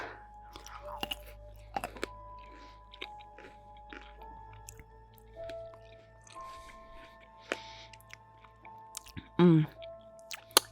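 Crunchy food chewed close to the mic at a dinner party, with scattered crisp bites and squishy mouth sounds, faint and intermittent, with soft murmuring in between.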